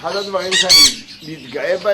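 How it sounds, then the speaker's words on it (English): Small parrots on a pastoral parrot farm squawk loudly and close in harsh repeated calls, filling the moment. "One of the things I'm proud about, even more than the big parrots, are these small, nice parrots."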